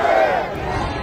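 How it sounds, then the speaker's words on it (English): A huge crowd marching through a Tehran street chanting death to the dictator, a loud, dense roar of many voices blending into one rhythmic, distant-sounding chant. "showing huge crowds walking the streets with chants of death to the dictator"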